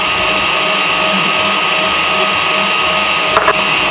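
An electric mixer whipping egg whites with sugar at moderate speed, a loud, continuous whirring drone with steady pitch, running close throughout while a person talks over it.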